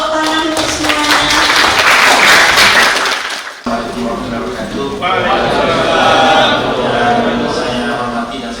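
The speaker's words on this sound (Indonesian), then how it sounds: "Tepuk tangan untuk semuanya." Audience at an Indonesian university ceremony welcoming an adjunct professor breaks into loud applause, a dense wash of clapping with a brief break, then clapping resuming as a voice speaks over it.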